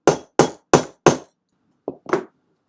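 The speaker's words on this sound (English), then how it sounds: "And you're just going to hit it with a hammer." A hammer striking a metal piece onto a fabric lanyard: four sharp, evenly spaced blows, a pause, then two quicker taps, each hit crisp and close.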